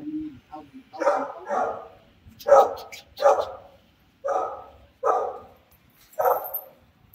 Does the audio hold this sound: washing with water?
no